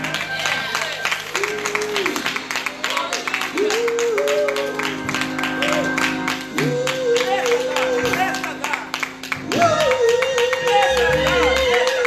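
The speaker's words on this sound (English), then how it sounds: "Somebody clap and say, I love the Lord." Church congregation clapping steadily through a worship service, dense rhythmic applause filling the room under a preacher's voice and sung or sustained vocal lines, continuous for the whole stretch.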